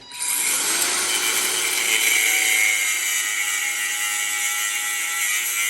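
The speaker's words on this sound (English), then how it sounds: "I'm going to get the grinder and make a little slit, a groove" An angle grinder cuts a groove into a plug with a loud, continuous high-pitched whine that holds steady for several seconds close by, with no voices.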